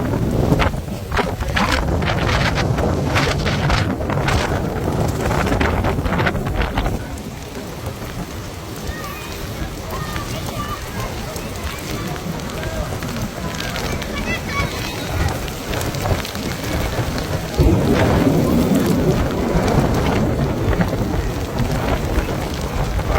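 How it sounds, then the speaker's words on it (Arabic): Heavy rain pours steadily in Makkah with gusty wind buffeting the microphone, loud and close throughout, with a rumble of thunder in the background and occasional faint voices. "هواء غزير وأمطار غزيرة ما شاء الله، هواء شديد"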